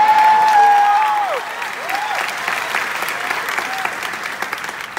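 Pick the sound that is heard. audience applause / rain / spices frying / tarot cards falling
audience applause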